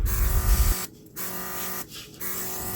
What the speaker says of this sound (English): Let's see how it sprays now.